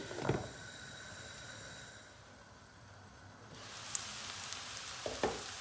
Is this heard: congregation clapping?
no